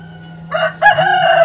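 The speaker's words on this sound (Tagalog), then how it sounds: "Kaso yung mga manok natin mga ka-farmers, nagugulat, natatakot." Startled chickens in a coop letting out a short, loud burst of crowing and agitated clucking close by, with a faint low hum underneath and no voices.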